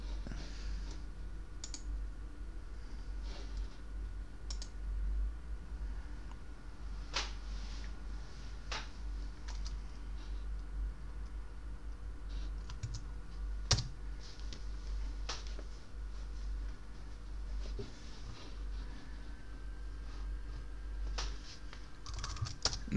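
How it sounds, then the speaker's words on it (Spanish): A computer keyboard clicks in scattered bursts of keystrokes as a command is typed for configuring a Fortinet firewall IP, steady and close against a low background hum. "escribo inter y luego la tecla tab y me termina de completar el comando"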